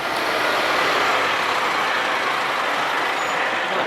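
Delivery lorry, apparently from Tesco, pulling up just outside: a continuous loud, broadband engine rumble and road noise that stays steady throughout, with no one talking.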